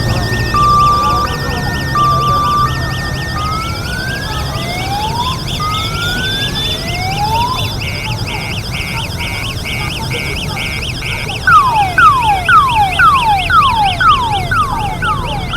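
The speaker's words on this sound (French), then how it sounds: "Seule la sirène du corbillard retentit et qui l'amène dans son Diacotomé natal." A hearse siren wails during a funeral procession in Djakotomey, with repeated rising and falling electronic sweeps that quicken into rapid whoops near the end, loud and close over steady background noise.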